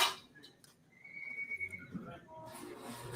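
A horse whinnies amid the bustle of a livestock auction ring at a Kansas stockyard, a drawn-out high neigh rising and falling for about a second, moderately loud over faint background chatter and ring noise.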